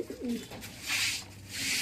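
Madrasi pigeons kept at home coo softly nearby, low throaty rolling calls repeating over a faint hiss.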